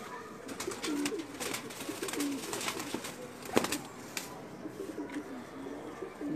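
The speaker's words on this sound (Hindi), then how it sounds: "ये सब कबूतर मियाँ साहब वाले ही हैं हमारे पास, जितने भी कबूतर हैं।" Breeder pigeons coo steadily at close range, soft throaty calls repeating through a busy loft with occasional wing flutters and light clatter, no voices.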